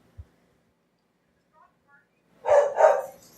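A pet dog gives two quick, loud barks close by after a near-silent pause in a quiet room.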